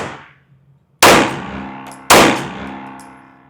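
Two loud, sharp Glock Gen 6 pistol shots fired at a target, about a second apart, each a close crack followed by a ringing decay with no talk.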